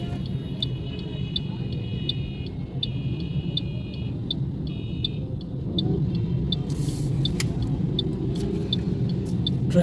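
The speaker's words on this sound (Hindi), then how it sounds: "ट्रैफिक फिर फंस गई है।" Stalled city road traffic in Hafizabad, Pakistan, with rickshaws in the mix, gives a continuous low engine rumble and idling noise, while short high beeps repeat through it.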